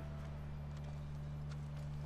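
Horse hooves in The Last of Us video game, a faint rhythmic clip-clop of a ridden horse beneath a steady low hum of game ambience.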